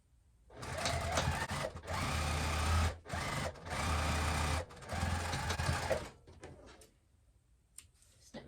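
A sewing machine quilts together fabric pieces of a bowl cozy in three steady bursts of close, whirring stitching with brief pauses between, then fades to small handling clicks.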